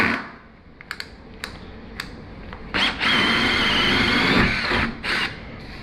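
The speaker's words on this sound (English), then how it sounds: "drill a hole straight through" A drill whirs steadily for a few seconds after some faint clicks and taps, drilling a hole through a kitchen countertop, then cuts out, briefly restarts, and stops.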